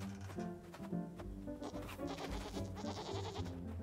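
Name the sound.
sheep bleating in the video game BLANC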